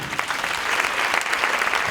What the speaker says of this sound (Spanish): Aplauso para el Jordi